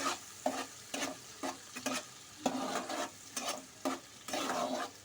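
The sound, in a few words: garlic paste being stir-fried in a pan on medium flame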